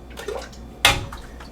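Freshly made green juice from a vertical tower garden harvest being poured, a brief splashing burst of liquid standing out clearly over faint background noise.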